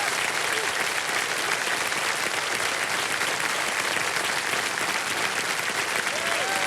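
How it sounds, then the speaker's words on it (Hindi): Studio audience on the KBC quiz show breaks into loud, sustained applause, a dense wash of clapping that holds steady and close for the whole stretch. "तालियां बज जाए इनके लिए।"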